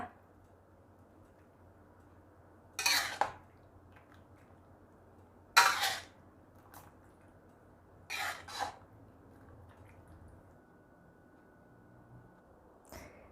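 Stir-fried chicken noodles in gravy are scooped out of a pan: three separate, brief scraping strokes of a utensil against the pan, spaced apart in an otherwise quiet kitchen.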